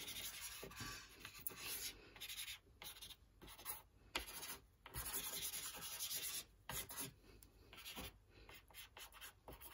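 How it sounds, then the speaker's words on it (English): Soft pastel chalk rubbed back and forth over paper, close-up, in quick scratchy strokes broken by brief pauses, with no voices. "I would take my chalk and I will rub it all over the paper"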